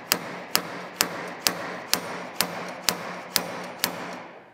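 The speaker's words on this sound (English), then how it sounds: "When you stick it inside here, it expands with little hooks all the way around, and then you just give it some taps." A hammer taps a blind bearing puller set inside a Brute performance steering rack for a KRX 1000, striking nine sharp, evenly spaced metallic blows about half a second apart, close and clear with no talk.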